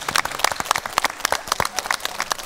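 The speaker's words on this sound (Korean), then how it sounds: "두 분을 위해서 다시 한번 박수." An audience claps warmly and steadily at a traditional Korean performing-arts talk show, a dense patter of many hands filling the room without a break.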